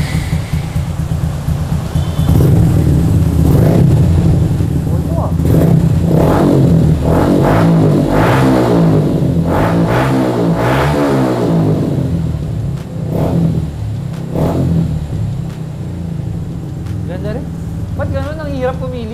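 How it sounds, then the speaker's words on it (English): A Suzuki Gixxer 150 single-cylinder motorcycle fitted with a Zeus Performance exhaust, loud close engine revving that rises and falls in repeated throttle blips over a steady idle rumble, with talk heard alongside. "narinig yun ang iba't ibang Zeus Performance exhaust para sa single cylinder and para dito sa Gixxer 150"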